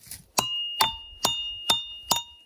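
Steel climbing piton struck with a hammer, five evenly spaced sharp metallic blows, each ringing with a clear sustained tone that grows more pronounced as it is driven in.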